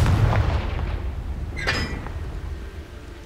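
The Confringo fire spell goes off in Hogwarts Legacy as a booming, explosive blast that rumbles heavily at first, followed by a sharp crackling flare and a fading tail.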